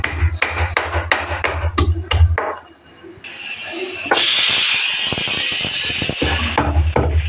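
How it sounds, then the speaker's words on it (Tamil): Onions being pounded in a kitchen to crush them for a plantain dish: a run of loud, close rhythmic thuds, a brief pause, then a steady sizzling hiss with more thumps. "வாழைக்காய் வதக்கிறதுக்கு நான் வெங்காயத்தை இடிச்சுக்கிறேன்"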